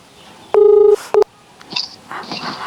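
A telephone plays dialing tones: one sustained keypad beep, then a short second beep, clear and close, followed by faint background murmur.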